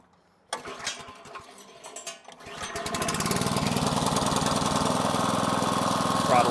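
A rock crusher impact mill for gold ore has its small engine started with the choke on, first a few sputtering catches and then a steady, loud running drone that holds to the end.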